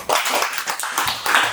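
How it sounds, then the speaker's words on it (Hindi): An audience clapping at a Hindi workshop, a brief burst of scattered, uneven hand claps of moderate loudness, with no talk over it. "इनके लिए ताली बजाइए।"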